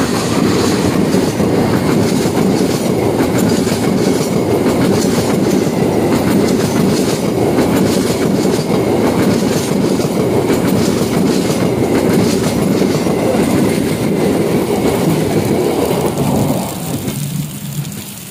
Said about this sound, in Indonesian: Kereta Argo Wilis melintas.